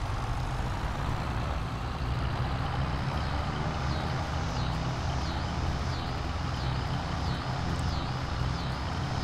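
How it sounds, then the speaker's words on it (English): An old tractor plowing a field in Farming Simulator 22, its engine giving a steady, heavy low drone throughout with a faint high whine riding on top. "I think we have Aunt Jill over there doing some plowing right now"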